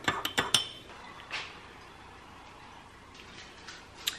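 A spoon clinks rapidly against a coffee cup several times at the start, then a quieter scrape and a few light taps follow.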